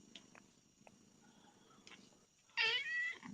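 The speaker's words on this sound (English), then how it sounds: "Oh, that was a sweet little meow." A single clear cat meow rises near the end, fairly close and loud against a quiet indoor background with faint rustling beforehand.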